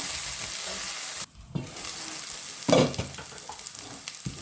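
Unpeeled garlic cloves fry in a pan for a land-and-sea paella, a close, steady sizzle broken by a brief hush and a louder burst of crackling as the pan is stirred.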